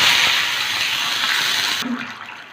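Water pours in a loud, steady gush into a hot pan of oil with fried mustard seeds, green chillies and curry leaves, then cuts off abruptly near the end, leaving a faint low bubbling.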